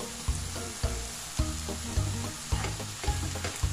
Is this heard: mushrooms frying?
yes